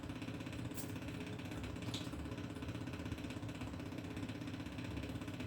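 A Kubota 662 diesel engine turns over on the starter with glow plugs fitted. It gives a steady, faint mechanical whir and chug throughout, with no clear firing.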